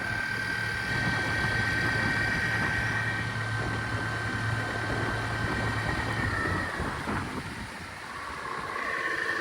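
A homemade electric boat motor, powered by a 51-volt lithium iron phosphate golf cart battery, runs hard at full throttle with a steady loud hum and rushing water noise that stays constant for the whole stretch and dips briefly near the end.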